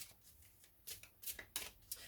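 A deck of tarot cards is shuffled close up, heard as quiet, brisk riffling bursts that grow sharper and more frequent toward the end, with no talking.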